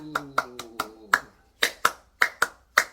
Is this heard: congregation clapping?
yes